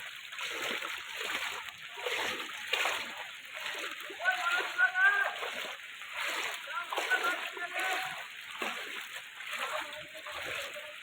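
Floodwater rising around houses and steps in Jaipur Natun Bazar, Lakhipur, Cachar district, Assam, heard as continuous sloshing and splashing water with surges, close by, and a voice speaking intermittently over it.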